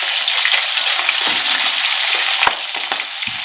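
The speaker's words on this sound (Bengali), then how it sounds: "এরকম করে মাছটা ভেজে নিই" Fish frying in a pan of hot oil at home, a loud continuous close sizzle with a few stirring knocks and clinks, no talking.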